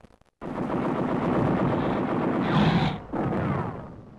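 Wartime combat gunfire on the volcanic slopes of Suribachi: after a brief silence, loud sustained bursts of machine-gun fire rattle continuously, with a short pause before another burst.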